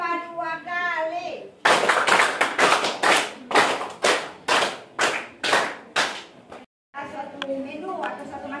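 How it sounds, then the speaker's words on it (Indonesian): Group of people clapping hands in a classroom in two bursts of five sharp claps each, loud and close, with voices speaking before and after. "Tepuk 5 2 kali."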